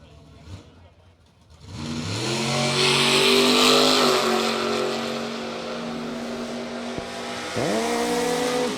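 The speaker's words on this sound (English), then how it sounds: "That gorgeous 55 Chevrolet. He'll be going down the Rogers Racing Fuel lane." A 1955 Chevrolet launches and runs down a drag strip at a radial racing event, its engine winding up loud and steady through the gears with brief shift dips, then revving again near the end, heard from close by.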